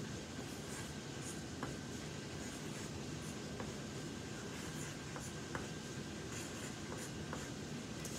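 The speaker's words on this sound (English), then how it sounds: "We're gonna draw windows." Pen drawing windows of a pirate ship on paper, a steady soft scratching hiss under a faint background hum, with a few light ticks as strokes start and stop.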